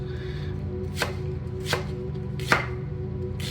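A knife chops vegetables into chunks on a board for daube spaghetti, four sharp separate strikes spaced about a second apart over a quiet steady room hum, close by, with no one talking.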